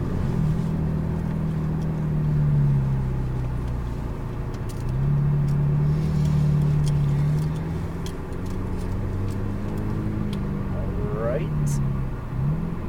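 McLaren 570S sports car rolls forward and swings into a left U-turn, its engine a low, steady rumble that swells and eases, with a brief rising note near the end.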